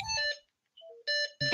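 A phone rings in the background of an online meeting with a bright electronic alarm-like melody of short beeping bursts separated by gaps, clear and prominent.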